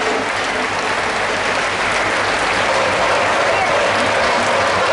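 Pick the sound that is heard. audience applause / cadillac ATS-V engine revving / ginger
audience applause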